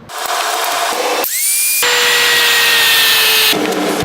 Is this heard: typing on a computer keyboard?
no